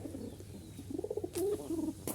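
Jalali pigeons and their squabs coo in a short run of soft, wavering notes that rise and fall over steady background noise, with a couple of sharp clicks nearby.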